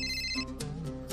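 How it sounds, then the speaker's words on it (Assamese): A telephone rings as a drama sound effect, a bright repeating electronic trill, close and clear with no talking over it. "ফোন আকৌ বাজিল।"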